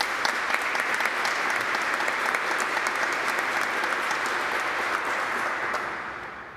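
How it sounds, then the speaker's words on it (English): A church congregation applauds at a bishop's ordination and installation ceremony, dense sustained clapping filling a large space at an even level for several seconds before fading out at the end. "So he still deserves an applause for you."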